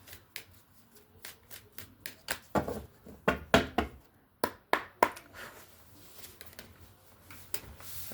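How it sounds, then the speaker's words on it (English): A deck of tarot cards shuffled by hand in a steady series of crisp slaps and riffles, close and fairly loud, with no talking. "I like to get a good shuffle"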